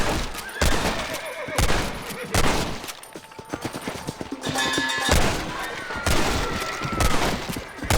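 Rapid volleys of gunfire in Red Dead Redemption ring out in loud bursts of overlapping shots, with brief quieter gaps and voices in between.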